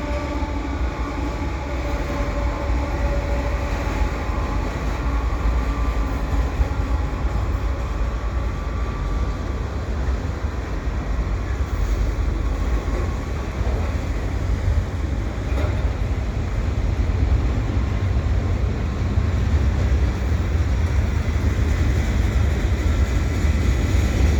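A Canadian Pacific eastbound freight carrying auto racks and mixed cars rolls past steadily in winter, a loud, continuous rumble and rail roar that holds evenly throughout.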